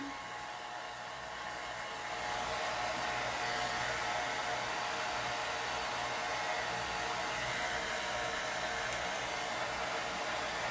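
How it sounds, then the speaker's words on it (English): A heat tool blows hot air to dry chalk paste on egg-carton acorn cutouts, a steady close whooshing hum that steps up louder after a couple of seconds and holds there. "I'm going to turn up the heat just a little and try and get them to dry."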